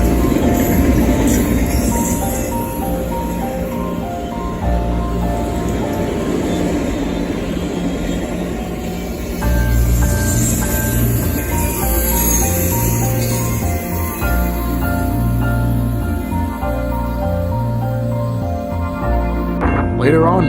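Freight train 28R with an auto rack carried in the middle of the consist rolls past, a steady rumbling of wagons and rail clatter with a brief tonal horn-like section, close and loud throughout.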